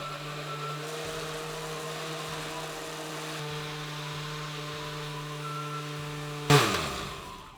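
A blender purees a shamrock shake of ice cream and milk with a steady, close motor whine that holds for several seconds, then ends in a brief sharp clatter.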